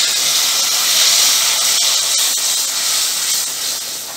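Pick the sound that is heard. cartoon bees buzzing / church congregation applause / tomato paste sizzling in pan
tomato paste sizzling in pan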